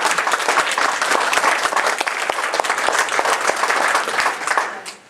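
Audience at a political gathering bursts into applause: dense crowd clapping, loud and steady with distinct individual claps audible, then fading out quickly at the very end.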